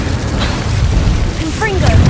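Confringo and Incendio spell blasts burst in Hogwarts Legacy during a Beasts class, with loud booming bursts and fiery whooshes over a dense battle rumble and short tonal magic chirps.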